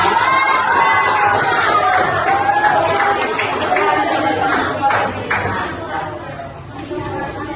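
A school class of children chanting and clapping together in a rhythmic cheer, busy crowd noise with shouts and applause throughout, close and loud in an indoor classroom.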